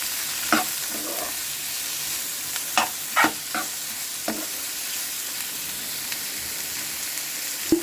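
Curry leaves sauté in a pan for a mushroom pepper fry, giving a steady oily sizzle broken by a few sharp scrapes and clicks of a stirring spoon, close and clear, with no talk.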